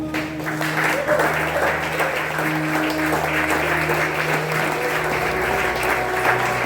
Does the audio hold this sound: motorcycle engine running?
no